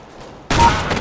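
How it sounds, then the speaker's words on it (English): A single loud shotgun blast in Counter-Strike: Global Offensive deathmatch, a sudden close burst that rings out briefly after near silence. "shotgun."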